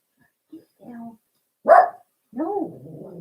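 Small Chihuahua dogs bark in a few short, sharp yaps and whimpering yips, close by indoors, with a pause between bursts.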